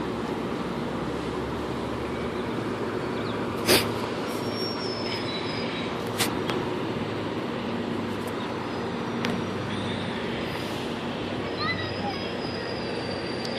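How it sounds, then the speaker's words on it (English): A GO or VIA train rolls past Danforth station, its continuous loud rumble and wheel noise joined by high squeals and a few sharp metallic clanks as the cars go by. "And there's another train coming."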